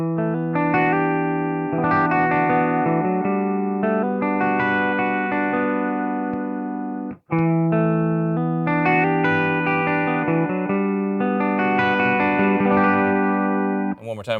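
Electric guitar played through a regular-size pedalboard with effects, sustained chords ringing out with chorus-like shimmer, breaking off briefly near the middle before resuming.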